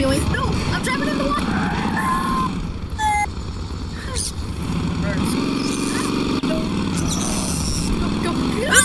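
Car driving into water in Garry's Mod, an engine drone with skidding and splashy rushes running steadily throughout, with a voice talking over it.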